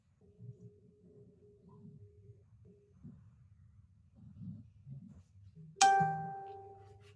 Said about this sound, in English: that was just some bell in the background